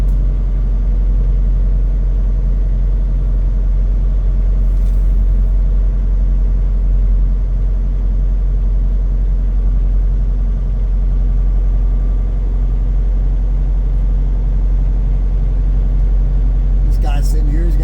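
Truck engines idling at a truck stop fuel island, a loud steady low diesel rumble running unbroken throughout, close by, with a brief higher noise near the end.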